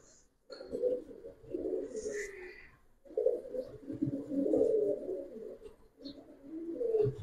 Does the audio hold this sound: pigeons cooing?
yes